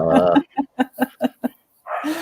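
A dog barks at a cat perched out of reach on a bench, a rapid string of five sharp, close barks following a longer whining yelp, with a brief vocal sound at the end.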